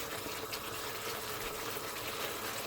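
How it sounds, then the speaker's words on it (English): Tamarind pours into a simmering vegetable madras curry, giving a steady, close, wet rush of liquid with a bubbling hiss that holds evenly throughout, with no talking. "Now it's time to add the tamarind."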